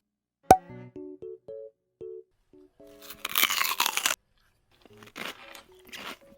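Bites into a crispy toasted tortilla wrap give a loud, dense crunch lasting about a second, followed by a few smaller crunchy chews, after a sharp tap and some brief tonal beeps.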